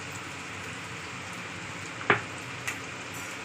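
Cumin powder sizzling as it is added to a hot pan, a steady faint frying hiss with a couple of sharp pops partway through.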